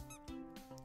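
A squeaky, cartoonish power-up sound effect from a video game, a short run of high chirping squeaks in a toy-like, mouse-ish tone, fairly loud and alone with no talk over it.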